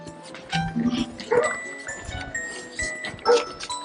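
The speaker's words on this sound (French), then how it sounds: "Oui, le chien." A dog on a French residential street during a leaflet delivery gives a few short barks and whines, moderately close, with a faint jingle and some voices nearby.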